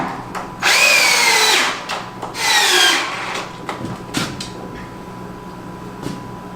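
Screws driven into wooden shelf legs with a power drill: two loud, sustained whirring bursts with rising pitch, each a second or so long, followed by quieter clicks and knocks of handling, close by with no talk.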